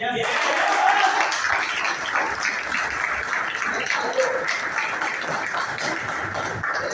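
Audience applause at a motivational talk in a hall, a steady dense wash of clapping lasting throughout with some voices mixed in.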